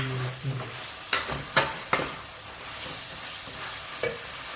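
Onions frying in a pan for pulut kuning, with a steady sizzle under a few sharp stirring scrapes and clacks of a utensil against the pan, close and moderately loud, no talking.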